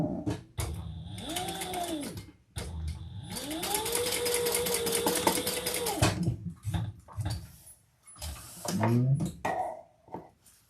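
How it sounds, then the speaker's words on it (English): A sewing machine joins two binding pieces in bursts of rapid stitching. A long steady run rises and settles in motor pitch, and shorter runs follow with brief handling noises between. "I'm just going to sew my 2 binding pieces together."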